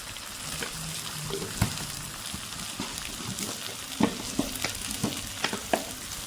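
Spices frying in hot oil in a pan for a spondias (hog plum) curry: a steady close sizzle with scattered pops and stirring scrapes, no speech.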